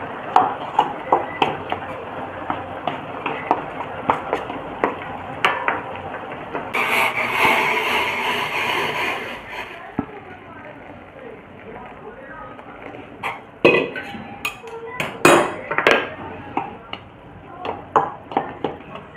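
Salt is worked into maize flour for makki roti, with soft rhythmic scraping and stirring of dry flour in a bowl, a few sharper clinks and taps, and someone speaking throughout.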